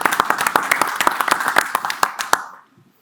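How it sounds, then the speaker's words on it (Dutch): Audience at an ERTMS talk show event clapping for a speaker, a brisk run of distinct hand claps from a modest crowd that thins and stops abruptly near the end, leaving quiet. "Dus, applaus voor Herman."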